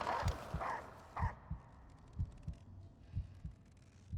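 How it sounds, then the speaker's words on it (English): The protagonist's heartbeat in the horror game Layers of Fear 2 thumps low and steady in paired lub-dub beats, about four pairs, with a brief eerie tone fading at the start and no talk. "I like that you can hear the protagonist's heartbeat there."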